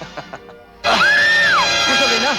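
A woman's loud, sustained scream bursts out suddenly after a few faint sounds and holds near and piercing, in a dramatic film scene.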